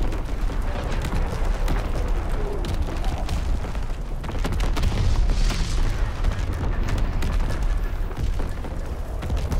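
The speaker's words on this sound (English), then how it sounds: "Incoming enemy artillery." Enemy artillery shells from Call of Duty: WWII land in a steady run of deep booming blasts and rumbling impacts that keep going for about ten seconds.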